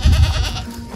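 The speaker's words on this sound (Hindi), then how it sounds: "बकरा" A male goat lets out a single short, loud bleat close by, fading away within a second.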